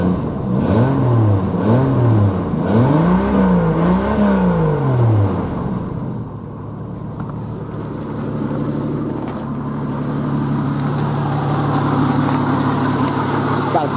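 A 1991 Jeep Cherokee engine revs up and down in several rising and falling sweeps, then settles into a steady, fairly loud idle close by.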